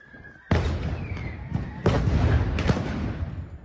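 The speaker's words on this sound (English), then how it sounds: "were met with Russian stun grenades" Stun grenades go off at a street protest in Enerhodar's main square, two sharp loud blasts about a second apart, each followed by a crackling, rumbling tail, with a smaller pop between and crowd noise beneath.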